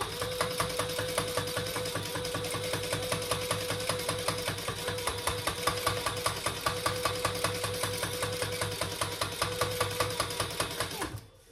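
A sewing machine top stitching fabric for a small tote bag runs steadily at an even clattering rhythm, the needle ticking rapidly and close for about eleven seconds before stopping abruptly.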